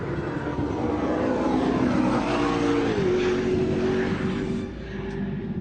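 A McLaren P1 supercar drives past loudly, its engine note rising and then dropping in pitch as it goes by, a smooth sustained whine with no talking.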